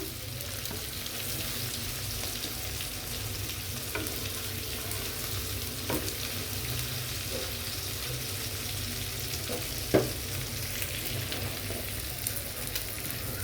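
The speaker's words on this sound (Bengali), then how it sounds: "এই মাছটা আমি একটু ভালো করে ভেজে নেব" Hilsa fish fries in a pan with a constant, fairly soft sizzle, broken by a few small clicks and one sharper tap near the end.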